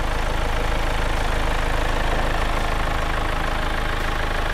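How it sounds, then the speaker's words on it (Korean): Engine of a Kia The New Carnival 9-seater Noblesse Special minivan idling steadily with the hood open, a close, even, continuous hum with no talk. "엔진 소리 일정합니다"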